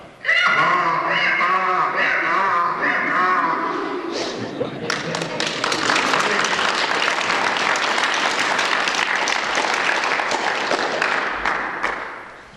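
A voice imitates a donkey's bray in a loud, wavering hee-haw, then a burst of clapping and noisy crowd reaction takes over.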